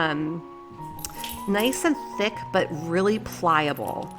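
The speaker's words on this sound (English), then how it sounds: "I'm sorry if you can hear Sammy's collar going" A dog named Sammy moves about and its collar tags give off light metallic clinks and jingles, scattered and intermittent beneath someone talking close up.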